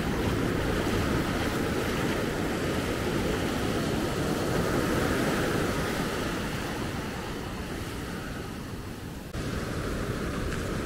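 Steady roar of ocean surf on a beach at Maspalomas, Gran Canaria, with heavy wind buffeting the microphone, continuous and loud throughout.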